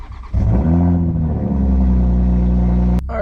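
A Toyota MK5 Supra in sport mode cranks and fires up, its engine catching with a loud rise and then settling into a steady, throaty idle close by before a sharp click at the end.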